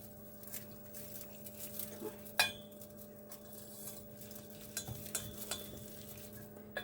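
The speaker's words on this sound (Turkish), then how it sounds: "yağ kızdı şimdi içine ununu koyacağız" Flour stirred into hot oil in a pan over a gas flame, giving a steady low sizzle with light scraping and occasional clinks of a small spoon against the pan, close and fairly quiet.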